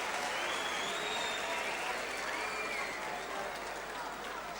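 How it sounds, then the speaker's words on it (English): Football supporters, Cardiff City fans among them, applauding Nottingham Forest at a trophy presentation; sustained crowd clapping and cheering fills the air, fairly loud and even, while a commentator speaks over it. "Supporters of Cardiff City, among others, there to applaud Nottingham Forest."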